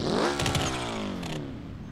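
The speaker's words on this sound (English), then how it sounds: "Are you revving that thing?" A tiny car in BeamNG.drive revs hard, its harmonic engine tone sweeping upward with clattering rasp, loud and close for about two seconds with no talk over it.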